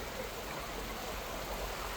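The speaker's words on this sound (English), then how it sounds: "It's amazing, like the whole the whole road has turned into a complete river. Burst water main." Water from a burst water main gushes and floods a road in Richmond, a loud, steady, broadband rush with no pauses.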